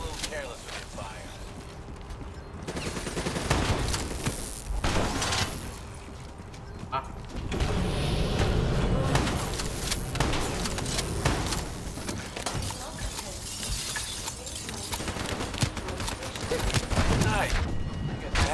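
Video game gunfire in Call of Duty Black Ops 3 comes in bursts of rapid shots and clatter, mixed with in-game voices talking over the action throughout.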